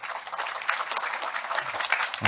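An audience breaks into steady, dense applause, close and sustained, ending with a soft thump.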